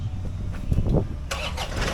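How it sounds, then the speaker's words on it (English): A piece of farm equipment's engine cranks and catches, turning over roughly before settling into a loud, steady running roar close by, with no talking. "And I can start the engine and let's show them that."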